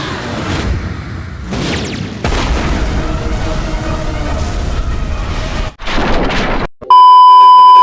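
A loud, sustained roaring blast with heavy rumble, cut off abruptly, followed by a steady electronic tone.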